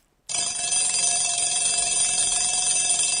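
An alarm clock bursts into sudden, loud, continuous metallic ringing after a brief silence, a sustained bright bell clatter that holds steady to the end.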